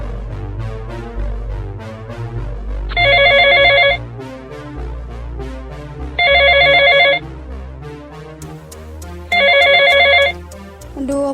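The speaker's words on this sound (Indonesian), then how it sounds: "atau aku telepon Laura aja ya." An outgoing telephone call rings in three evenly spaced electronic bursts, each about a second long with a pause between, loud over a soft background music bed.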